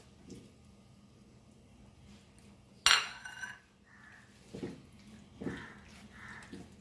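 Butter pepper garlic prawns being mixed in a pan: a sharp metallic clink of a utensil, followed by several soft scraping and stirring sounds over a low background, fairly quiet overall.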